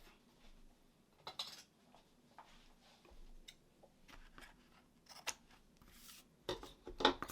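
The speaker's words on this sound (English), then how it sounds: "scissors to cut the excess off" Scissors snip paper several times at an irregular pace, crisp and close, with quiet pauses between the cuts.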